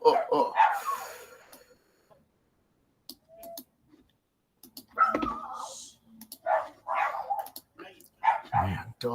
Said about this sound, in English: dogs barking outside